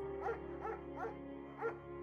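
A dog named Mayhem barks in the Firewatch video game, four short yelps spaced evenly across the moment over a steady low ambient hum, moderately close and clear.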